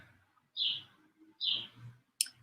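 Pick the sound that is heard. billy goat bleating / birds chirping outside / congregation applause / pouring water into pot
birds chirping outside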